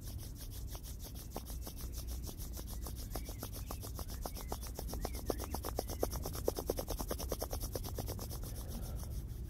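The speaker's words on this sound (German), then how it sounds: "reiben wir die Handflächen aneinander" Palms rubbed briskly together during a hatha yoga session: a quick, even run of close, soft swishing strokes that keeps going for several seconds with nothing else heard.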